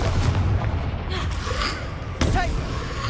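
Confringo fire spell explosions in the Hogwarts Legacy video game hit as deep booms over a rumbling backdrop, with a sharp burst late in the clip and faint whooshing spell effects between.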